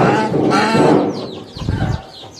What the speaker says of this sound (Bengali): এই যে আমাদের রাজহাঁস, এই যে ওকে উঠে দিয়ে বাবা উঠো